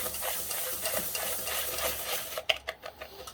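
A spoon stirs butter into a tomato pie mixture with soft, irregular scraping and squishing strokes, ending in a few sharper clinks and taps against the bowl. No voices are heard.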